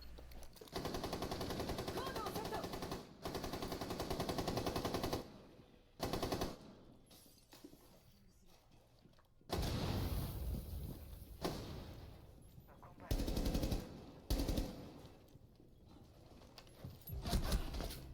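Bursts of automatic and single gunfire ring out in a Rainbow Six Siege match, with sustained rapid volleys early on, then quieter gaps broken by sharp short shots and thuds.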